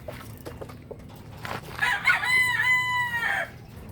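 Backyard chickens clucking with a rooster crowing loudly nearby, a long rising-and-falling crow following a few scattered clucks, with no talk.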